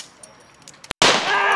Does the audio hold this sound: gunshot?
yes